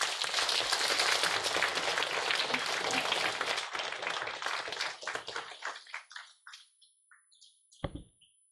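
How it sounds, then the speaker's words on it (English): Audience applause at a talk fills the room loudly and steadily, then thins into scattered individual claps that fade out, ending with a few final claps. "Please give them a round of applause."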